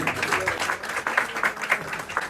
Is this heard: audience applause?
yes